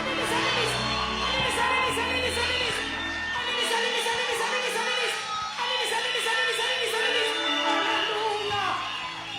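A church congregation at a Charis Missionary Church service cheers, whoops and shouts to welcome a visiting prophet, a loud sustained crowd roar filling the room throughout, with scattered voices rising above it.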